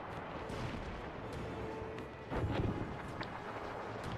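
Distant artillery shells landing in a World War One battle game, a continuous low rumble of blasts with a heavier impact swelling near the middle, no voices.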